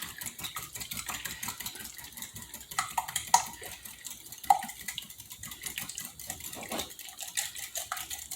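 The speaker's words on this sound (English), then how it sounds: "We're going to whisk that egg." Whisk beating eggs and heavy cream in a bowl, a steady run of quick clinking and scraping strokes against the bowl with a few sharper knocks, fairly quiet and close with no talking.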